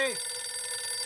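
A mobile phone rings in a short, bright electronic tone that rises at the start and then holds a sustained buzzing pitch.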